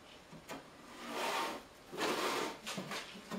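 A thin wooden drawer bottom slides into its groove from the back of a bedside-table drawer, giving soft, dry rubbing and rasping strokes in a few pushes, with light knocks between them, close and moderately quiet.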